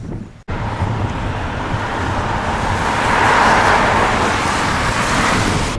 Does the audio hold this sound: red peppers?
no